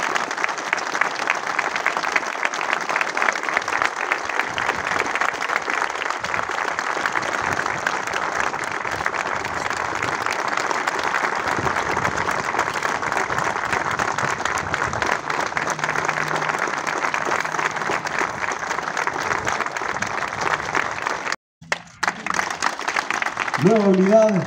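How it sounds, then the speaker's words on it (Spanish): A crowd gives sustained, loud, even applause at a volunteer firefighters' 25th anniversary ceremony, continuing for over twenty seconds before a brief break and voices near the end. "Pido un aplauso fuertísimo para mí."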